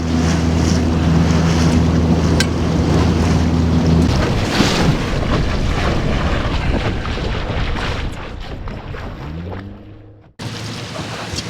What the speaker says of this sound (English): Let me kill this motor